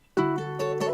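Guitar loop sped up to 141 BPM for a beat: one bright plucked chord rings out after a brief silence, followed by two softer picked accents. Moderately quiet, alone.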